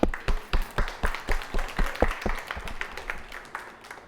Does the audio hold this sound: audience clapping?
yes